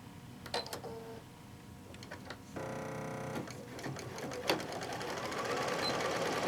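A sewing machine stitches a pillowcase seam, opening with a few scattered clicks and handling noises before settling into a steady, rapid mechanical whir that runs on to the end, fairly quiet and close.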